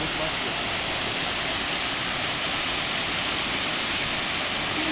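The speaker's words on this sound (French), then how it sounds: "un peu de fraîcheur depuis la cascade des Arado, en plein milieu du parc de Pineda Gerês" Arado waterfall in Peneda-Gerês park, Portugal, a loud, steady, continuous roar of falling water, dense and unbroken, heard close with no other sounds.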